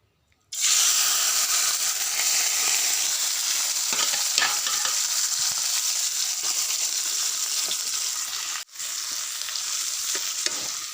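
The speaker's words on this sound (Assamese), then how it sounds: "এইখিনি মাছ ফ্ৰাই কৰি আছোঁ।" Fish fries in a pan with a steady, close sizzle and crackle of hot oil, broken by faint stirring scrapes and a brief pause near the end.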